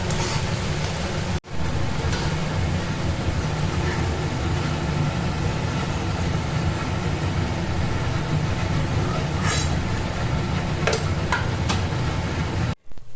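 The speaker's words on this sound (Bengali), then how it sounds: "চিমনির আওয়াজ আসছে, তো আওয়াজটা একটু আপনারা নজরআন্দাজ করবেন" A kitchen chimney exhaust hood runs with a loud, steady broadband roar for the whole stretch, while potatoes and crisp fried onions cook for chicken biryani; there are two brief dropouts and no talking.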